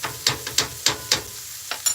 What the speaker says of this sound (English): I got my onion and my garlic sauteing first. And I'm going to throw my meat in there in about 2 seconds.